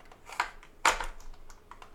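Typing on a new computer keyboard at a desk: a few close key clacks with one louder strike, sparse and irregular, no voices.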